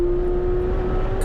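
A Porsche GT3 at full throttle on the Willow Springs race track gives a steady, sustained in-car engine drone with a firm, unchanging tone under constant wind and road roar, and no talk.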